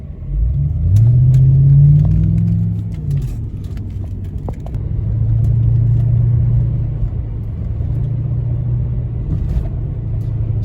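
A Mercedes-Benz 280SE straight-six engine revs up with a low, rising growl, eases back, then holds a steady rumbling drone; close and loud, no talking.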